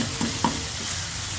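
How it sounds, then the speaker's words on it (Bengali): Spice masala stir-fried in a pot for a winter vegetable dish, a soft continuous sizzle close by with a couple of scraping stirs of a spoon near the start. "এটা ভালোভাবে একটু কষিয়ে নিচ্ছি।"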